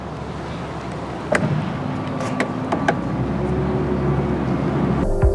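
A 2024 Dodge Charger Daytona EV's powered hatchback closes at the push of a button: a steady motor hum with a few faint clicks, ending in a firmer latch thud, heard alone against background noise.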